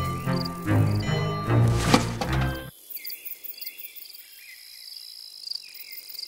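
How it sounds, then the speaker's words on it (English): A swarm of wasps in the Bee Movie video game gives off a steady high, insect-like whine with faint chirping pulses, rising alone once a burst of music cuts off. "If that doesn't prove to Adam there's a swarm of wasps headed this way, I don't know what will"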